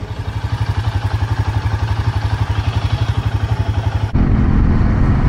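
A Royal Enfield Himalayan 450 motorcycle on the road with a loud, steady pulsing engine beat that shifts abruptly near the end into a rougher, lower rumble, close and alone with no talk.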